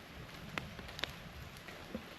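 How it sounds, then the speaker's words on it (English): Light rain during a thunderstorm pattering on a surface while camp is set up on the road, a soft steady hiss with a few sharper drop ticks, close and faint. "setting up camp in a thunderstorm and a bit of rain"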